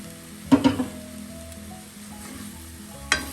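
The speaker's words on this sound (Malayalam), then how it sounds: "എല്ലാം കൂടി മസാലയിലൊന്ന് മിക്സ് ചെയ്യാം." Soft sizzling of cooked red cowpeas in masala in a pan, with a few brief clanks of a spoon stirring near the start and end, close and low in level, without speech.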